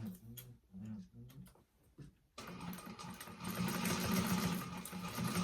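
A sewing machine runs a bag seam, starting with soft ticking and short stuttering stitches, then breaking into a loud, steady whir of continuous sewing, while a voice talks over the first part.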